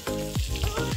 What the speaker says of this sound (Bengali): এবার এর মধ্যে নুন আর হলুদ দিয়ে পটলগুলোকে ভেজে নেব।